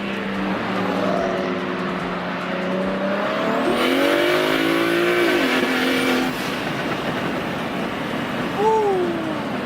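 A BMW 335i with an N54 engine converted to a single turbo pulls hard in second gear, loud and close, its engine note climbing steadily through the revs before a brief lift near the end.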